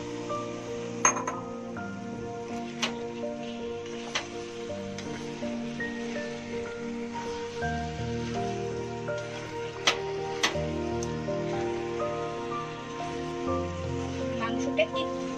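Chicken pieces dropped into a pot of frying spice masala for Bengali chicken kasha sizzle in a steady, rain-like hiss, with occasional clinks of a utensil against the pot and a faint tonal hum beneath.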